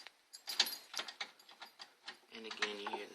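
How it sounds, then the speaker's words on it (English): A ratchet clicks in quick, uneven bursts while tightening a bolt during an air intake install on a Honda Accord, close and quiet, with a brief voice near the end. "And again you hear the skipping or the clicking."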